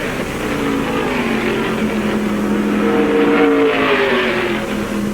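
Stock cars at the 1974 World 600 roar together in a loud, sustained engine drone with shifting pitch as the pack runs onto the tri-oval for a restart, heard without any voices.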